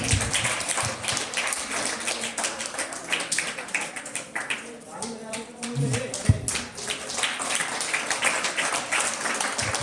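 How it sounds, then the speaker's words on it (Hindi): Applause from an audience at a school science exhibition opening for National Science Day, a steady spread of many hands clapping over about ten seconds with some chatter mixed in. "जोरदार तालियां"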